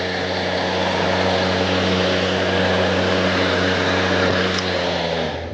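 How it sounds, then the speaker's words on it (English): A Greenworks 24V 13-inch cordless self-propelled lawn mower runs steadily and loudly, its electric motor holding a constant hum with a strong low tone throughout, no voices. "Turn the mower on, pull back the grey handle."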